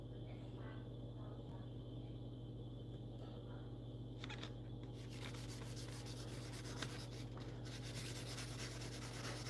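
Opal being wet-sanded on 1000 grit sandpaper, a soft steady rubbing scrape running continuously over a constant low background hum, with brief brighter bursts of friction toward the middle.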